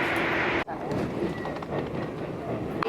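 A train at a railway station in Japan, with a loud steady rumble that breaks off sharply, then a quieter continuing roar with rattling and faint clicks, close by.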